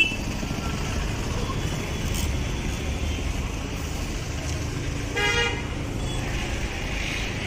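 Heavy road traffic rumbles continuously nearby on a rainy day, with a car horn tooting a couple of times over the steady engine noise.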